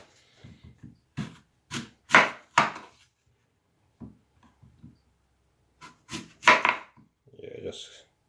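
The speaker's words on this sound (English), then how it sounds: "kind of cut up the apple. Just so it's a bit easier for the blender." A knife cuts up an apple for a blender smoothie, with a run of crisp, hard chopping strokes in two close-up bursts separated by a short pause.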